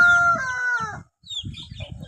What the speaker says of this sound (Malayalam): ഇവിടെ പൂങ്കോഴി കൂവാൻ പോവുകയാണെന്ന് തോന്നുന്നു.